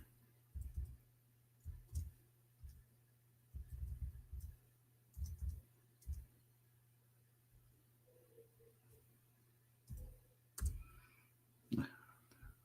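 Keys tapped slowly and unevenly on a computer keyboard, a few soft clustered clicks at a time over a steady low hum, fairly faint and close with brief pauses between bursts.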